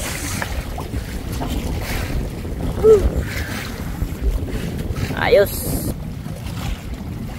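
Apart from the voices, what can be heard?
strong wind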